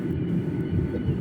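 An airplane descends toward a runway near Singapore, with a steady, loud, broadband engine roar and rumble that holds continuously and alone, without talk.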